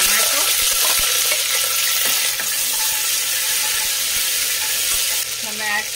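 Onion, ginger garlic paste and tomato fry loudly in a hot pan, a constant dense sizzle with occasional scraping stirs and spatters up close.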